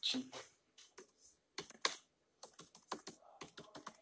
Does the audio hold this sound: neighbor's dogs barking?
no